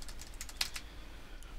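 Several light clicks from cursor keys on a computer keyboard tap in a quick irregular run, soft and close against a low steady hum, with one sharper press in the middle.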